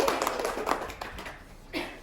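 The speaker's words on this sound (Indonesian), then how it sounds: "Tepuk tangan dulu ya untuk kelompok 3." A classroom gives group 3 a round of applause: a brief patter of scattered hand claps that fades quickly, ending with one last louder clap.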